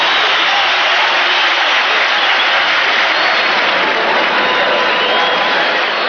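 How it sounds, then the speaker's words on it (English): A football stadium crowd roars a sustained ovation for the New York Giants defense during a 1981 Jets–Giants game. The cheering and applause form a loud, dense, unbroken wash with muffled broadcast quality. "And the crowd providing an ovation for the Giants defensive unit."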